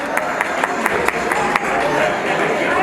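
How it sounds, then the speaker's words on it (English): An audience claps for an award honoree at a women's achievement awards gala, with brisk, dense applause filling the room and a few sharper individual claps standing out. "A big round of applause for Miss Indu Jaiswal ji"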